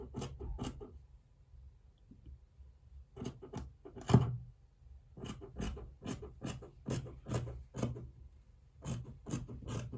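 Scissors snip through fabric while cutting out the front of a senator top, with repeated short sharp cuts in quick bursts and brief pauses, close and fairly quiet.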